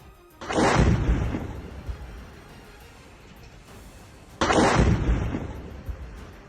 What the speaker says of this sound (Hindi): धमाके की तेज आवाज से लेबनान का बड़ा इलाका दहल गया।